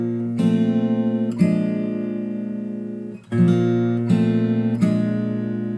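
Fingerstyle guitar playing a melody over chords, slow sustained strums ringing out with several chord changes, each one struck and left to decay, close and clear with no voice.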